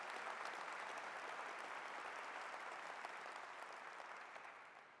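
A large audience at the State of TMC 2025 event gives the team a sustained round of applause, dense and steady throughout, fading slightly toward the end.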